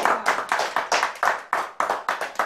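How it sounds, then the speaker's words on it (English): An audience at a live comedy show claps in a fairly steady, rhythmic beat, loud and close, with each clap burst dying away quickly and no talking. "Everybody clap."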